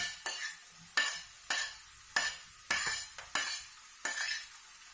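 Repeated sharp sizzling bursts as buckwheat grains toast in a hot pan, about eight crackling hisses in an uneven rhythm, close and moderately loud with no talking.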